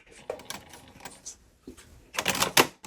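A sewing machine stitches at stitch length 2.5 in quick rattling bursts, pausing between runs before a louder, denser stretch near the end; close and fairly quiet, with no talking.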